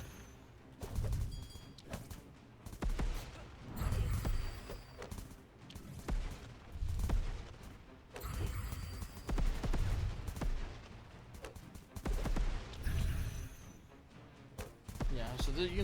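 Explosions from the video game Backpack Survivors, in which arrows are fired, land as repeated thumping blasts in a steady stream, with someone talking over the game sounds.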